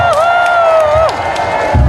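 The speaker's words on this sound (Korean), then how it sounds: "박수 한번 주시겠어요?" A crowd cheers at a night-market street performance in Gongju, South Korea, with one long high whoop held for a second before it drops off, amid scattered clapping and crowd noise.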